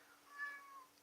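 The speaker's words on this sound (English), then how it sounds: "That's my cat." A house cat gives a single drawn-out meow, faint and somewhat distant, against quiet room background with no talking.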